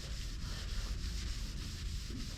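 A hand scrubs chalky, oxidized paint on a car hood with a steady, close scouring rub and faint rhythmic strokes, continuous and without voices.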